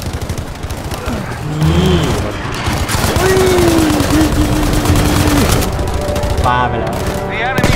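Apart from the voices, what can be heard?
gunfire in Battlefield V video game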